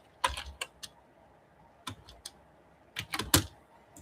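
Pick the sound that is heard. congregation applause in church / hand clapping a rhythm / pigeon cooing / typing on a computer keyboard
typing on a computer keyboard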